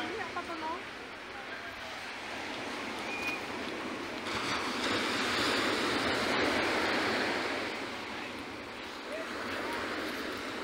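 Ocean surf at Dahican beach in Mati City makes a steady, broad wash of breaking waves that swells and eases. Voices are faintly present over the surf.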